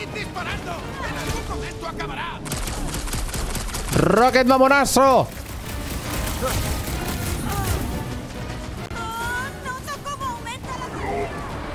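A loud explosion bursts through the soundtrack of Marvel's Guardians of the Galaxy video game, a dense roar lasting about a second amid game music and character voices.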